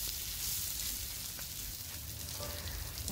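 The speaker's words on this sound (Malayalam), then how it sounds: "ഇനി നമുക്ക് മാരിനേറ്റ് ചെയ്ത വെച്ച മീൻ നമുക്ക് വറുത്തെടുക്കാം" Pomfret fish frying in coconut oil with curry leaves, a steady close sizzle and crackle of hot oil running without a break and with no talk.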